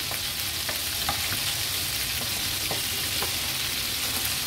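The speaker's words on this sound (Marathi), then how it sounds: "2 ते 3 मिनिटांसाठी एक बाजू व्यवस्थित फ्राय करून घेऊया, नंतरच त्याला पलटवणार आहोत।" Squid pieces fry on medium flame in a pan, giving a steady dense sizzle with faint scattered pops and spatters, alone without speech.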